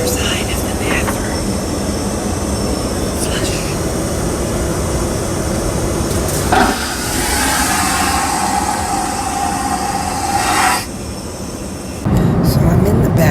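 Steady engine and air roar inside an airplane cabin in flight, heard from the back rows near the rear lavatory, a continuous loud drone with a brief shift in tone midway and no one talking.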